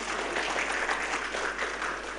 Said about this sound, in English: the people who are supporting Ajit now give applause